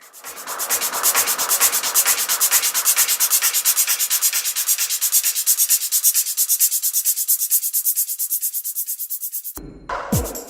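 Makeup brush, the fatter end of a Naked 3 brush, rubbing rhythmically on the skin beneath the eye, close and steady brisk strokes for about ten seconds, then a brief clatter at the end.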